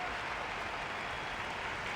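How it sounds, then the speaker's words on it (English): A crowd in the Genshin Impact video game applauds as a hero is sent off on a parade, a faint, even wash of distant clapping held steady throughout without clear voices. "Let us send him off with a round of applause."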